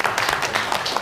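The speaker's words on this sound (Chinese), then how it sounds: "来，鼓掌。" An office crowd at a company board announcement breaks into a short burst of applause, dense and fairly loud, with many hands clapping together close by.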